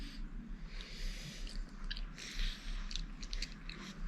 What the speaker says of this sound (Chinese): 彤彤在吃葡萄